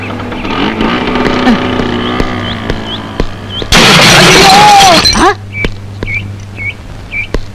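A scooter engine hums, then a loud, harsh crash of impact and scraping bursts out for over a second before fading to scattered noises.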